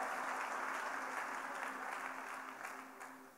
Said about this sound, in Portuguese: Vamos dar uma salva de palmas para essas pessoas